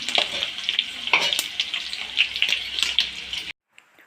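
Mustard seeds, cumin and garlic sizzle and crackle in hot oil with a steady spattering hiss, stirred now and then, before the sound cuts off abruptly near the end.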